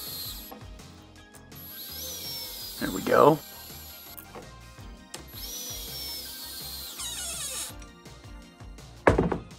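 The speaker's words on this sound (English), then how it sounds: "nice and slow with the power tool so you don't melt the threads in the plastic" A power tool slowly drives screws into a plastic RC car chassis in two sustained whirring runs, with clicks and handling noises between them and someone speaking briefly.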